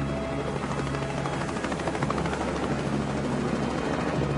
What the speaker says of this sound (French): Les premiers hélicoptères de secours sont sur les lieux quelques minutes plus tard.